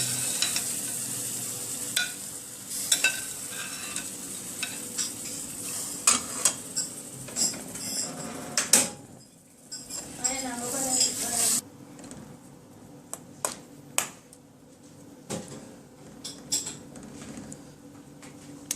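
A mixed berry and pineapple pie filling cooks in a pan, bubbling and sizzling gently, while a utensil scrapes and clinks against the pan in irregular strokes. The sound is close and fairly quiet, with no speech, and pauses briefly partway through.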